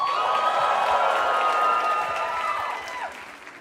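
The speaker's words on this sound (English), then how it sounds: "And finally, a round of applause for Shamaya." Steady audience applause with some cheering greets a poet at a poetry slam final, sustained and fairly loud before tapering off toward the end.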